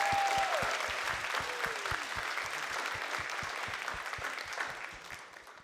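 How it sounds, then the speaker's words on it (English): Audience applause at a student leadership conference, a steady wash of clapping from a large crowd that stays loud throughout, with a few brief whistles and cheers over it. "Please give them all one big round of applause"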